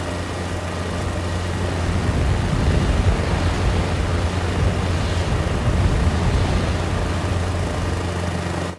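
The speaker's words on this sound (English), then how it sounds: "you will hear the wind blowing when passing under the spinning rotor" A helicopter in Microsoft Flight Simulator gives a steady, droning rotor and engine hum mixed with rushing wind, holding at an even, moderate level throughout.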